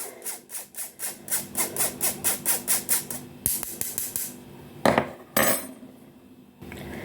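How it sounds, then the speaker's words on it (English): A spoon scraping lumps of cocoa powder in a bowl, a rhythmic series of quick rasping strokes, close and fairly quiet, followed by a few sharper scrapes and knocks. "scrape it with the spoon until all the lumps disappear"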